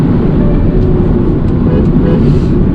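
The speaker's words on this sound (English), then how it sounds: "finally driving the 2 Series Grand Coupe, and I'm driving in a very calm way" BMW 2 Series Gran Coupe, front-wheel drive, cruising calmly in Eco Pro mode: a loud, steady interior rumble of road and engine noise with constant broadband hiss and no talk.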